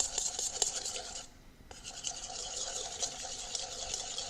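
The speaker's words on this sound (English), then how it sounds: "now we're going to start whisking the butter" A hand whisk beats butter in a bowl with a steady, rapid scratching and rasping that briefly pauses before resuming, close and fairly quiet with no talking.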